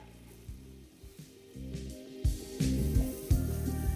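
Chopped garlic and whole cumin seeds fry in melted butter for a mushroom and pea dish, sizzling steadily and close by. The sizzle swells in loud bursts as the pan is stirred.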